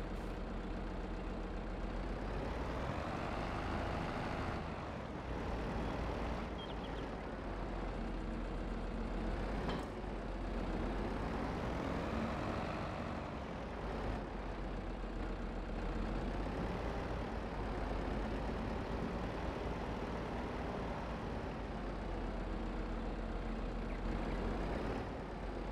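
A John Deere tractor engine in Farming Simulator 22 runs steadily, a low rumbling drone that swells and eases with throttle, heard alone without talk.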